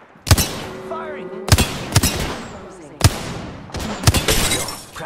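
Gunfire in the battle royale shooter Apex Legends: several loud, sharp bursts of shots arrive in quick clusters about a second apart, each with a ringing tail, and voices sit faintly underneath.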